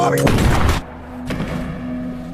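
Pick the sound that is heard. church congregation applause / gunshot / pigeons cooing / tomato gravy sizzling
gunshot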